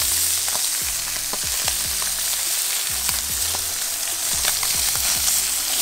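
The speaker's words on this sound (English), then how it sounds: "Good little sear, got some color on there." A barracuda fillet sears in a very hot pan, throwing off a loud, continuous sizzle and crackle with repeated sharp pops and spatters throughout, close up and with no voices.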